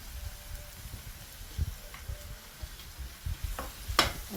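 Curry leaves and green chillies frying in a pan for prawn noodles, a soft steady sizzle broken by occasional stirring scrapes and utensil taps, close and fairly quiet, with no talking.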